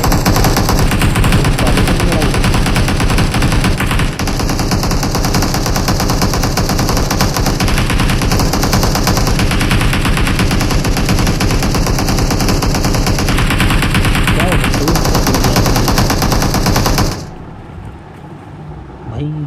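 Sustained, loud automatic gunfire from a PUBG tournament match, with dense bursts and overlapping shots running almost continuously before cutting off abruptly near the end, leaving only a faint background.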